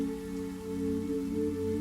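Light rain falls in a soft, steady patter near a mountain cabin, a gentle constant wash of drops over a low hum, with no voices.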